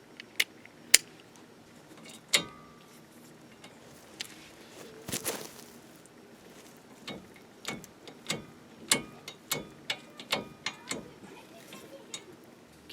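Ratchet clicks in short bursts while loosening the brake caliper bolts on a Chevy 1500 pickup, a series of sharp ticks spread across the clip with brief pauses between them.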